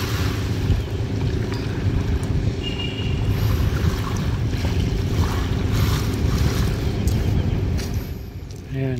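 Dragon boat paddlers row on Manila Bay, with their strokes buried in a loud, continuous wash of water, waves and wind buffeting the microphone throughout.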